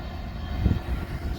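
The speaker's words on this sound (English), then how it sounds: "Wow. That's a long train." A long freight train rolls past on the track with a loud, steady low rumble and a brief surge of wheel noise, heard up close with no speech.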